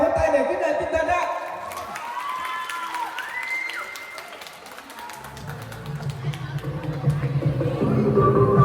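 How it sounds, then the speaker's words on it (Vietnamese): Audience applause at a Chơ-ro community dance performance: a sustained, moderately loud wash of clapping mixed with crowd noise and some cheering, continuing throughout. "xin chúng ta cho một tràng vỗ tay để khích lệ tinh thần ạ"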